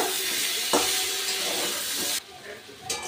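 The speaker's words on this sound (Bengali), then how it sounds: "সবজির সাথে আবারও মশলাটাকে ভালো করে কষে নেব।" Ginger, dried chilli paste, salt and spices stir-fried with brinjal and onion in a pan for a fish curry, giving a steady close sizzle and scraping stir that briefly dips near the end.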